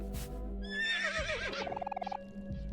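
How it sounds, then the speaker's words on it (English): A cartoonish horse neigh from the video game Omori, a whinnying call with a quick rising and falling pitch ending in a rapid fluttering trill, heard alone over a steady low game background tone. "he made a horse sound"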